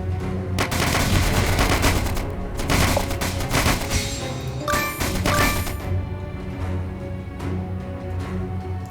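Gunfire in the trench warfare game Stickman Trenches: dense, loud bursts of shots and booms, with the most intense volleys early and then steadier battle noise.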